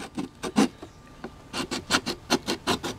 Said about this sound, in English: So we're just going to sand the rest of this down.